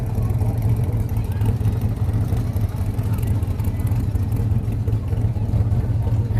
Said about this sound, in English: As you can hear the mufflers rumbling, and there's the Studebakers coming up.